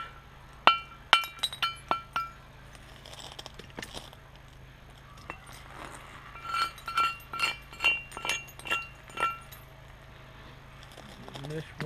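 Sharp glassy clinks of flintknapping as flakes are struck off a stone, a scattered series of crisp close taps, some quick clusters and a steadier run later, with someone talking between the strikes.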